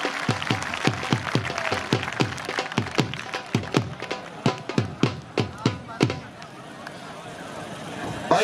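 Crowd applause at an outdoor kabaddi match, a steady patter of clapping with sharp individual claps standing out, fading toward the end.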